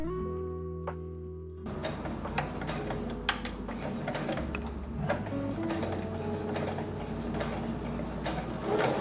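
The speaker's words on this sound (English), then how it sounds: "pinning and sewing all the darts together" A sewing machine stitching fabric darts on a dress, a steady mechanical whir with rhythmic clicking that starts after a short quiet moment and runs close and continuous, with occasional small knocks.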